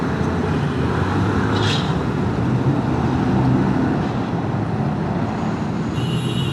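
Road traffic on Taft Avenue in Manila just after rain, a steady broadband rumble of engines and tires that stays loud and continuous throughout with no clear breaks.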